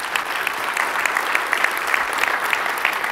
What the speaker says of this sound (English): So I think a round of applause for that.